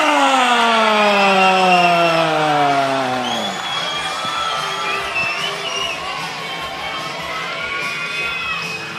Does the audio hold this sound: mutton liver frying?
no